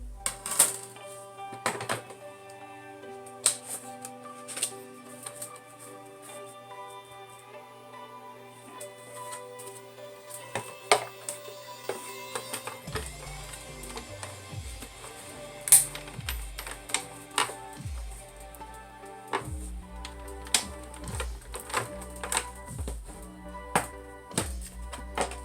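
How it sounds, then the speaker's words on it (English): A die cut machine cuts a cross shape from card for a handmade sympathy card, giving repeated clacking taps and a steady mechanical rolling drone with sharp clicks close by, and no talking. "I'm going to go ahead and start getting the die cut set up. So I'm going to do the cross first."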